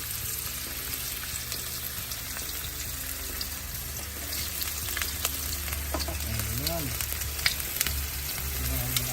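Ginger fries in oil for a mudcrab and coconut milk dish, a steady close sizzle running throughout with occasional stirring scrapes and light clinks.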